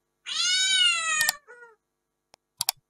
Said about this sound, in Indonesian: di sini saya pilih kucing karena memang saya suka kucing ya